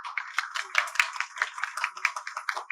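An audience at a Web3 networking mixer gives the speakers a round of applause, with dense, many-handed clapping that stays steady and fairly close throughout.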